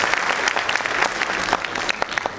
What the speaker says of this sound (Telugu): మరి చప్పట్లు ఒకసారి.